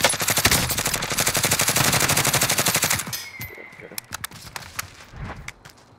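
Rapid, loud automatic gunfire rattles in a fast, even stream for about three seconds in the Warzone video game, then gives way to scattered sharp pops and clicks while players talk.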